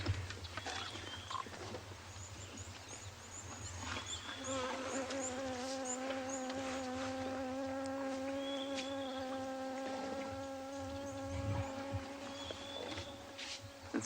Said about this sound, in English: It's a bee.